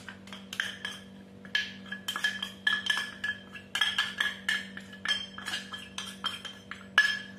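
Metal spoon clinking against a bowl while ready-made sabudana flour is mixed into batter for fasting bhagar medu vada, with repeated irregular taps close by over a steady low hum.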